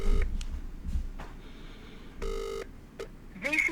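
A telephone on a call gives short electronic ring bursts and tones, spaced irregularly over a few seconds in a quiet room with faint background noise.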